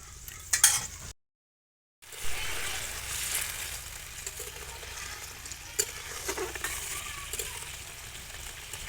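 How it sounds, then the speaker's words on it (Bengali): Small amount of water hitting fried cauliflower-stem fritters in a hot pan, giving a steady hiss and sizzle after a brief gap, with faint stirring clinks throughout. "আমি এবার জল দিয়ে দেবো বেশি জল দেওয়া যাবে না বড়াগুলো গুলে যেতে পারে তাই অল্প জল দিছি"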